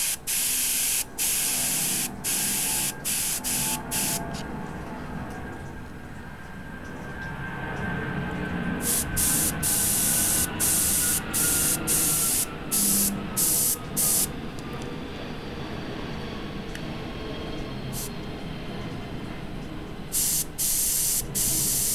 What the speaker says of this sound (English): Spraying heavy, I'm just fogging here.